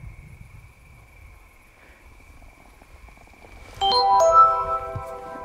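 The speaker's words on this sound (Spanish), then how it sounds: "un WhatsApp que me ha llegado" A WhatsApp notification chimes on a phone outdoors at dusk by a reservoir, a short bright melodic tone sounding once near the end after quiet ambience with a faint steady whine.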